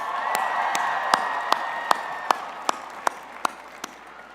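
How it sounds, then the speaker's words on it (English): A graduating class applauds themselves at a spring commencement ceremony, with a broad crowd of clapping under a string of loud, evenly spaced single claps that keep a steady beat. "give yourselves a round of applause."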